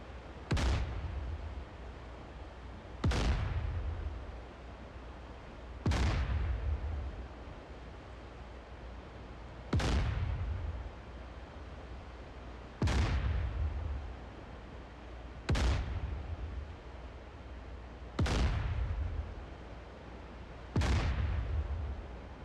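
A warship's main gun in DCS World fires eight evenly spaced rounds, each a sharp, heavy boom fading into a rumbling tail over steady low background noise.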